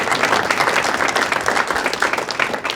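Audience at a music hall of fame induction ceremony applauding, a dense steady round of clapping from many hands with no talk over it.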